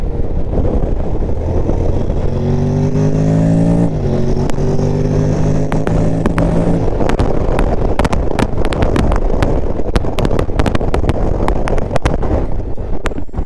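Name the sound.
Honda Forza 750 scooter engine accelerating in sport mode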